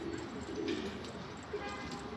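A flock of pigeons coos softly in low, throaty murmurs close by at a loft, with faint outdoor background noise.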